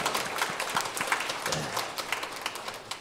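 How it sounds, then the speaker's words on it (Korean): A church congregation claps in praise during a Sunday worship service, a steady spatter of many hands at moderate level filling the room for a few seconds. "또 우리 하나님께 경배와 영광의 박수를 한번 올려드리겠습니다."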